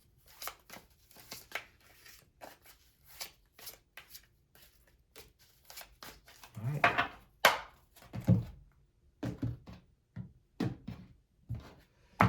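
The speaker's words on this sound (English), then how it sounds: "These are the worst cards to shuffle." Tarot cards being shuffled by hand, a series of quick papery riffles and taps in short bursts, close and fairly soft, with a brief spoken word partway through.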